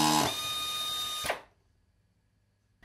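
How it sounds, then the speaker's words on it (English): A Tappex flexiarm production screwdriver drives a self-tapping brass threaded insert into nylon. A close, high mechanical whine runs for about a second, then cuts off into near silence, followed by a faint knock. "Align the insert with the top of the hole and actuate the screwdriver"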